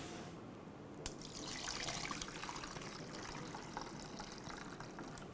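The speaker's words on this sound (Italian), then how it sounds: "E poi riempire il contenitore più grande con dell'acqua calda, arrivando a metà del contenitore più piccolo." Hot water is poured steadily into a larger container around a smaller mould for a bain-marie, a continuous close splashing fill that starts with a sharp onset and keeps running, no speech.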